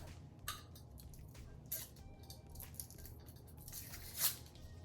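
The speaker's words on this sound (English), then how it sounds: "I'll go ahead and peel this one because it's already cooled down" Sublimation transfer paper peeled slowly off a cooled, heat-pressed mug, giving quiet crinkling and tearing rustles with a few sharper crackles over a low steady background hum, no voices.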